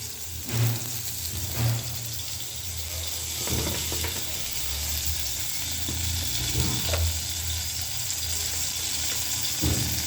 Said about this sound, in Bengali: বেগুনটা আগে একটু হালকা ভাজবে নিই, তারপরে টমেটো দিয়ে দেবো।